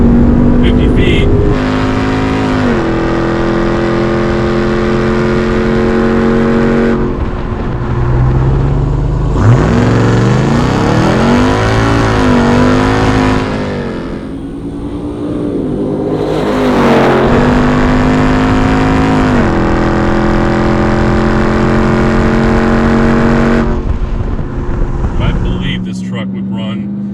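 Hennessey Mammoth 1000 TRX truck launching hard, a loud close engine roar climbing through rising revs and gear changes, dipping briefly before surging again, with wind and road noise throughout.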